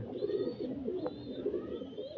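A Kaldama pigeon gives soft, repeated cooing close by over a low, steady background murmur.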